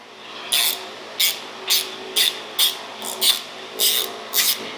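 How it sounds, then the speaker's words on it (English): A wide flathead screwdriver works a stuck screw loose on a used Harley, giving nine evenly spaced, close scraping rasps, each lasting under half a second, with no voices. "Now we should be able to take a wide flathead and get in here and turn that free."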